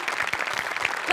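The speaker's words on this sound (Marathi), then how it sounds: "खरंच ताईच्या बेरिंगसाठी जोरदार टाळ्या झाल्याच पाहिजेत" A studio audience at a Marathi comedy show claps loudly and densely, a brief burst of applause.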